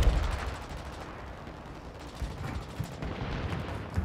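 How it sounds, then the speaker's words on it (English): Mortar strike in Call of Duty: Modern Warfare II, rendered as a fairly quiet, continuous rumble of distant blasts and gunfire-like bursts, heaviest at the start and again near the end. "Hostile mortar strike in the area."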